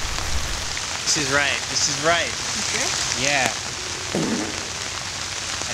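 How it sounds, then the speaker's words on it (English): Steady pouring rain hisses constantly outdoors while people talk briefly over it. "Pouring rain."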